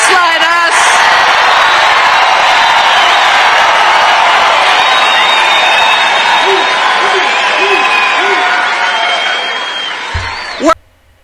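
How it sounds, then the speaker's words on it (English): Rally crowd cheering loudly and continuously with whoops and yells, then cutting off abruptly near the end. "Do you hear that cheering?"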